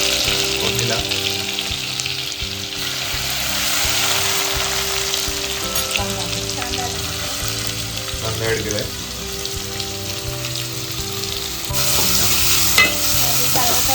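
Oil tempering for chicken keema sizzles loudly and steadily in a pan, a continuous frying hiss with stirring scrapes mixed in, close by and alone for the whole stretch.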